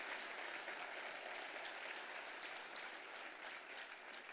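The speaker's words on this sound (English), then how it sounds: "You deserve a big round of applause for that." Audience applause at an award ceremony, a steady, faint wash of many hands clapping at a distance, continuous throughout with no talk.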